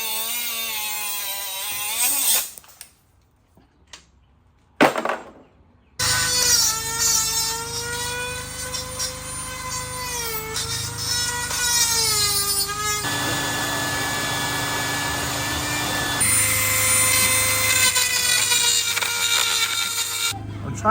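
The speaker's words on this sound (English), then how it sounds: "I'm going to use my Dremel to try to hog out the aluminum without damaging the case more than I already have" A Dremel rotary tool grinds aluminum out of a damaged engine case, a steady high-pitched whine running continuously with shifting pitch after a few brief starts and stops, close and fairly loud with no talking.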